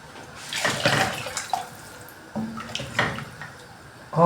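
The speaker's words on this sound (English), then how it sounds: "it's time to add more water so that it can boil more" Water pours into a cooking pot of beef, splashing in uneven bursts, with gurgling surges close by and a clink of metal at the end.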